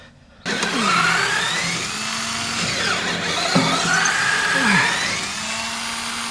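A power tool drives bolts fastening side boards onto an International 4700 dump truck, whirring up and down in pitch close by over a steady engine hum after a brief quiet start.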